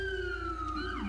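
A police car siren from a video game vehicle mod wails steadily with a sweeping electronic tone that shifts pattern near the end, over a low engine-like hum.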